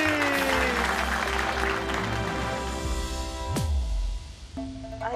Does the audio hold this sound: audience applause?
yes